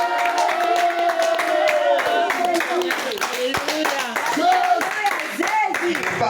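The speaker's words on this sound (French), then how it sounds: "C'est comme ça que tu acclames." Church congregation clapping and acclaiming during worship, a dense continuous wash of hand claps and crowd voices with sustained singing or chanting tones running throughout, loud and close.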